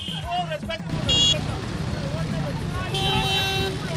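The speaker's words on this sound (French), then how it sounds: "des sons aigus de klaxons et de motos de voitures, aux plus gutturaux provenant des moteurs de ces engins" Car and motorbike horns toot through busy city traffic, with bright sustained honks rising over the steady rumble of engines and a murmur of crowd voices.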